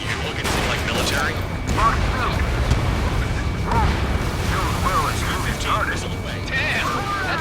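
Rapid bursts and booms from strikes on targets in the Ace Combat 7 flight game, repeating irregularly over a steady jet-engine roar, with voices speaking throughout.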